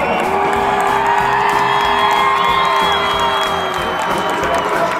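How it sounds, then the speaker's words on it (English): Crowd at Bands of America Grand Nationals cheering and whooping loudly for a marching band, a continuous close roar of voices with high yells and whistles rising over it. "the crowd's going crazy for them"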